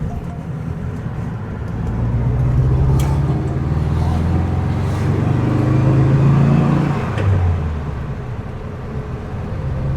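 A 1975 VW Beetle with drop spindles and disc brakes driving in second gear, its air-cooled engine droning steadily as it rises and then eases off, heard from inside with no talk.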